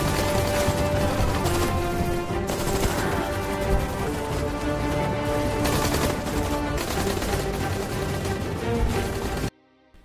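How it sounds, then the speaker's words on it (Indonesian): Film gunfight between special forces and gangsters, with dense, continuous gunfire and bursts over a loud, busy action soundtrack that cuts off abruptly near the end. "Baku tembak pun kembali terjadi."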